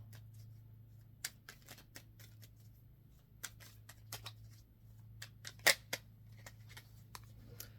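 Tarot cards, the larger deck, being shuffled in soft irregular riffles and taps. Quiet and close, with a faint low hum underneath and no talking.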